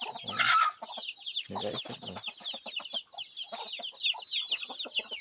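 Palawan native chickens cluck and squawk close by in a rural farmyard, with busy overlapping calls and chirps from smaller birds or chicks, and someone briefly speaks over them.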